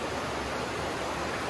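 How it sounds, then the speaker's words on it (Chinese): Stream water rushes through a limestone cave in a Guizhou mountain village, a dense, even roar of flowing water with no breaks. "怪不得有哗哗的溪水声呢。"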